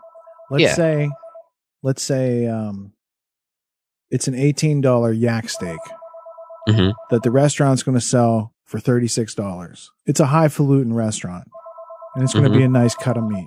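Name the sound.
telephone ringing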